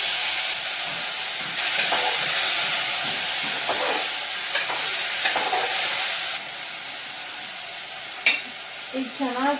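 Pumpkin palya frying and being stirred in hot oil in a pan, a steady broadband sizzle with scraping stirs throughout, close and loud, with a few faint clinks near the end.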